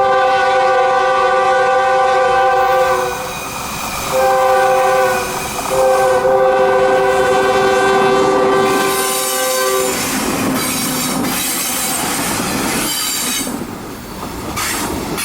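A Q602 mixed freight train running from New Orleans to Waycross, led by Tropicana juice cars and trailed by intermodal cars, sounds a loud, steady horn in repeated blasts. The rolling rumble and clatter of its wheels follow as it passes close by.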